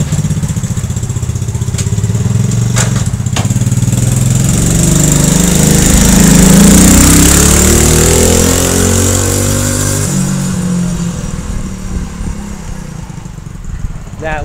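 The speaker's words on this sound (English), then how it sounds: "That, ladies and gentlemen, boys and girls, is a 110cc mini ATV." A 110cc mini ATV engine runs steadily nearby, its droning buzz swelling to a louder rev midway before settling back to a rougher idle.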